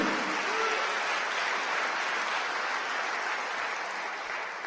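A church congregation claps in praise during a sermon, a steady wash of many hands that holds at an even level throughout, somewhat distant and diffuse.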